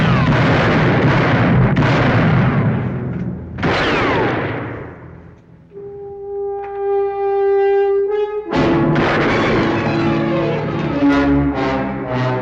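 Gunshots in a western movie: loud, booming blasts and echoing reports at the start and end, separated by a sustained tonal blare in the middle, all in a full cinematic mix.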